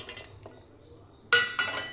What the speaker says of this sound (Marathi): मिक्सरच्या भांड्यामध्ये टाकायचं आहे.